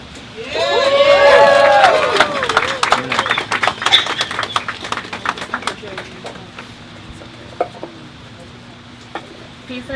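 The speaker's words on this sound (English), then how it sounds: "So please give a warm round of applause for Miss V." Applause and cheering swell from a crowd at an outdoor street protest at the Louis Pink Houses, a Brooklyn housing project, then break into scattered claps and whoops that taper off while bird chirps drift in.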